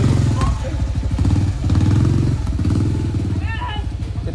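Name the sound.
UM Renegade Sport 200cc motorcycle engine revving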